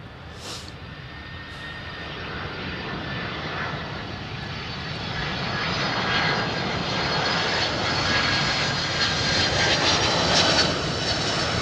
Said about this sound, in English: that's a 767 just coming on the other runway